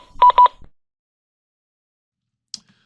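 An electronic telephone tone in the horror game Cursed Feed, two quick loud beeping bursts close together, then silence and a faint brief click near the end.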